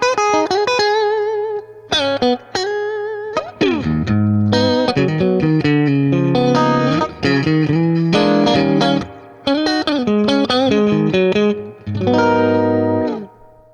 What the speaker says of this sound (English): We're going to have all the pedals off so you can hear what the clean tone sounds like.